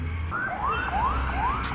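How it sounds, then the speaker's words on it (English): An ambulance siren wails in repeated rising sweeps as it passes along a street in Bali, loud and close over steady traffic rumble. "and there goes an ambulance."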